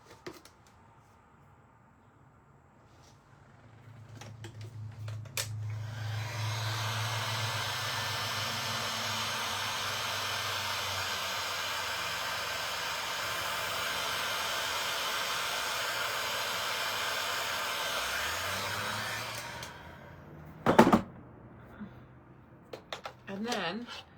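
A small dryer or heater blows over resin coasters in a steady, close whooshing hiss lasting over ten seconds, then cuts off, followed by light handling clicks and brief talking.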